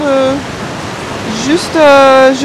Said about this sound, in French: juste écouter le bruit de la mer